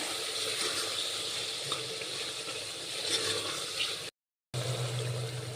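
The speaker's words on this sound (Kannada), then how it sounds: "ಇದನ್ನ ನೀಟಾಗಿ ಹಸಿ ವಾಸನೆವರೆಗೂ ಎಣ್ಣೆಲಿ ಫ್ರೈ ಮಾಡಿಕೊಡು 1-2 ನಿಮಿಷ." Mint, green chilli and coriander frying in oil for a chicken biryani, a steady close sizzle with faint stirring scrapes, broken by a brief gap before the frying resumes.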